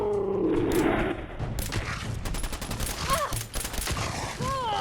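Gunfire in the Fallout 4 video game, rapid bursts of shots rattling off in quick succession amid booms, mechanical clatter and a creature's groans, with a voice speaking briefly over the combat.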